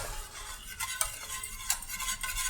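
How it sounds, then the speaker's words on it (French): A whisk stirs béchamel sauce in a pan with steady scraping and light clinks against the metal, close and fairly quiet, with no talk. "Tu peux pas arrêter de mélanger là. Parce que sinon la béchamel."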